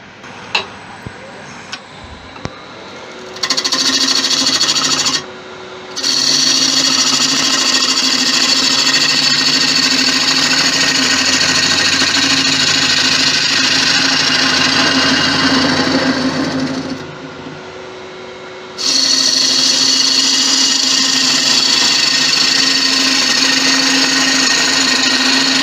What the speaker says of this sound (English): Now face it off and put a mortise into it.